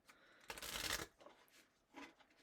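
Materia Medica oracle cards are shuffled in a quick riffling burst, followed by a couple of softer, shorter shuffles, close and quiet with no talking.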